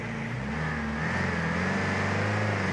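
A Ford Transit van's engine revs hard in BeamNG.drive on a snowy, slushy village road, a steady close-up drone that climbs slightly in pitch throughout, with no talking.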